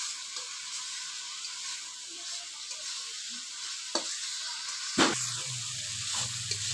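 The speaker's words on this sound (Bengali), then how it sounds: "এখন ভালোভাবে মশলাটা কষিয়ে নেব" Spice masala frying in a pan for a koi fish curry, with a steady, close hiss of sizzling oil and a sharp scrape of stirring near the end.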